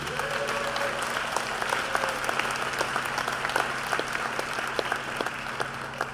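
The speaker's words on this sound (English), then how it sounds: "a round of applause for all the volunteers" A crowd at a seniors' games closing ceremony gives a round of applause for the volunteers, sustained even clapping throughout under a low electrical hum.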